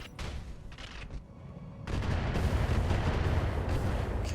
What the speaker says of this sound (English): they're shooting at the Strix again